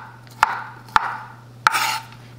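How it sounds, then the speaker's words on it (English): A knife chops through red-skinned potatoes on a cutting board in three sharp, separate strokes, each a crisp close thud with a brief scraping tail, unevenly spaced in a quiet kitchen. "I'm going to chop these up."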